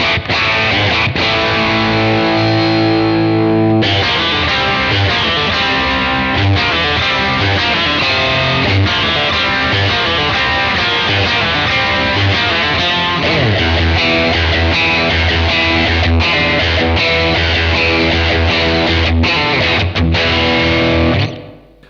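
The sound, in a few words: electric guitar through overdrive pedal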